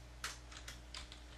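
Typing on a computer keyboard while designing in Photoshop, a few quiet, separate key clicks over a low steady hum, with no talk.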